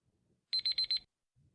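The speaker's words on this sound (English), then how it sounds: "On the buzzer is Preetham from Barclays." A quiz show buzzer at a corporate quiz competition in Chennai gives four quick, bright, evenly spaced electronic beeps in one short burst, clear and alone against near silence.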